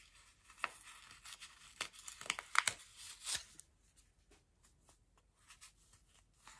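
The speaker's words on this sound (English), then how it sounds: "It makes it easier to remove the index card from inside there." A perforated index card is torn out from the stitching of a fabric patchwork angel ornament, giving a few quiet close ripping and papery crinkling bursts that fade to near silence.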